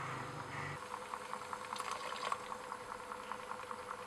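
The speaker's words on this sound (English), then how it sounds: "As before, the reaction starts and there's bubbling and a temperature increase" Hydrogen peroxide reacting in a mixture with monosodium glutamate, giving a steady, faint bubbling and fizzing that continues throughout with soft crackles, heard alone at close range.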